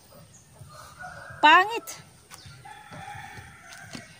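Chickens in an eggplant garden on a farm plot, with a brief loud squawk or crow rising above faint rustling and background clucks, while a person says a word.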